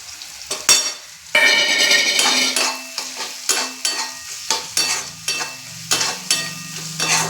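Vegetables frying in a kadai with chilli and turmeric powder for pasta, loud sizzling broken by repeated scraping strokes of a spatula stirring, about a dozen distinct stirs in quick rhythm.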